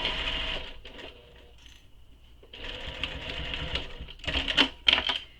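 A sewing machine stitches through a folded handbag panel in short close bursts, running, pausing, then starting again with sharper ticks toward the end.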